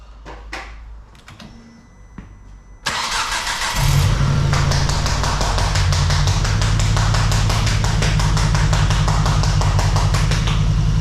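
Car engine cranking after its fuse is replaced, then catching into a loud, close, uneven idle with a rough misfiring beat, following a few clicks and quieter handling sounds.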